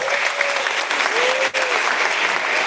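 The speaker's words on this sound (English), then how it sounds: "And one more round of applause." Audience applause for contestants at a live scoring event, a continuous close wash of clapping with a faint voice briefly audible underneath.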